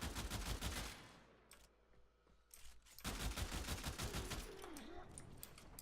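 Burston rifle from Warframe firing in rapid bursts, emptying the magazine in a dense, loud stream of shots, a short lull, then another sustained volley, with synthetic game effects layered over the gunfire.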